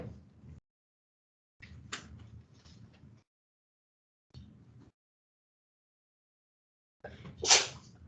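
In a classroom during a maths lesson, a single sharp sneeze bursts out near the end, after a few short stretches of quiet background noise.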